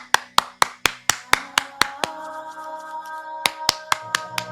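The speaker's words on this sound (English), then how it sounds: "Clap your hands first before you do it." Sharp hand claps in a steady, quick rhythm, then a pause filled with a ringing tone before the clapping resumes, close and crisp.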